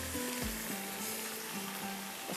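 Tomatoes hitting a hot frying pan while a Pakistani mixed vegetable sabzi cooks, giving a steady, close sizzle with a few faint clinks of stirring, with no talking.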